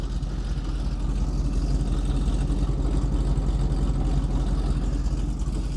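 A rebuilt engine in a 1936 Chevy hot rod runs at a steady idle, a low, even rumble with a fast regular pulse that holds close and unchanging throughout, with no talking.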